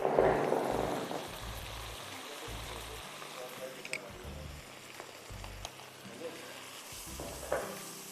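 Cooked chicken, vegetables, boiled rice and spaghetti are tossed together in a pan, giving a soft steady scraping sizzle with a few brief louder stirring knocks, while a voice talks over it.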